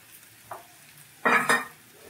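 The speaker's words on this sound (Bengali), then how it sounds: "ডিমটা ভাজা হয়ে যাক।" Eggs fry in a pan with vegetables and chopped green chili: one short tap, then a loud burst of sizzling and stirring that fades quickly.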